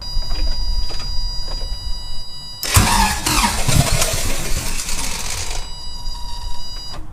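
A Toyota 22RE engine with a new cold start switch cranks over loudly for about three seconds, a harsh rhythmic starter whir rising over a steady background hum, close by and without talk.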